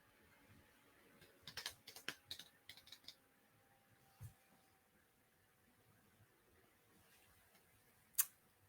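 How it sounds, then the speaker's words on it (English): Quiet, sparse keyboard taps in a short burst, then a pause, a single tap, and one last louder click after a gap. "Are you typing with one finger?"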